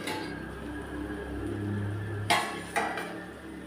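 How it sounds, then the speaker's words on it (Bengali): A lid being lifted off a cooking pot of dried fish curry, heard as two brief metallic clanks close by over a low steady background hum, with no talking. "এবার ঢাকনা তুলে নিচ্ছি।"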